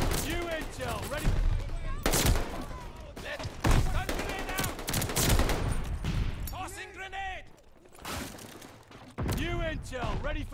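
STG assault rifle fire in Call of Duty Vanguard, loud repeated automatic bursts broken by short pauses, alongside other battle effects and shouted voices.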